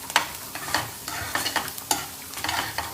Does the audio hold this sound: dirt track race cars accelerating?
no